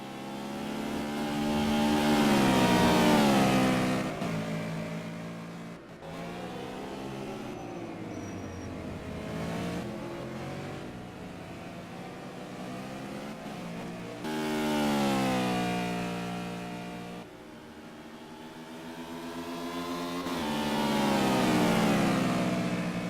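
GT2 race cars at Silverstone in the Simraceway racing game, engines revving and rising in pitch in repeated loud surges across the whole stretch, with no talking.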